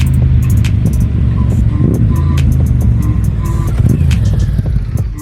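A Honda VTR 1000 V-twin motorcycle engine rumbles loud and close with a deep, uneven throb, holding steady throughout, with clicks and mechanical rattles layered over the low growl.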